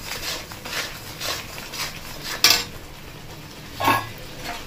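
Mutton with coriander powder stir-fried in a pan, a soft background sizzle broken by repeated scraping strokes of a utensil against the metal and two louder clanks, fairly close.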